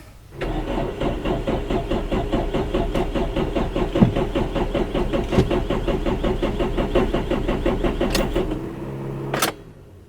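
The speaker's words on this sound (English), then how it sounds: "Let's see if the car starts." A car engine cranks over and over in rapid, even starter-motor pulses for about eight seconds, loud and close, struggling to catch, then stops with a brief final burst and no talking.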